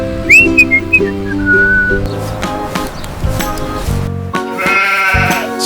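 Sheep bleat in short wavering calls, loud and close, mixed with whistle-like tones over a steady background of music and sound effects in a cartoon farm scene.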